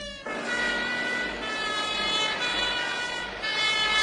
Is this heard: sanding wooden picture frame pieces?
no